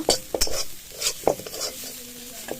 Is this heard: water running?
no